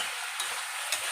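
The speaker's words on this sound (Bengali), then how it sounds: "2 মিনিট পরে ঢাকা সরিয়ে আবার একটু এটাকে ভালো করে নেড়ে চেড়ে দেবো।" Vegetables for Bengali sukto are stirred in a pan, giving a soft steady sizzle with two brief scraping strokes of the spoon, close and fairly quiet.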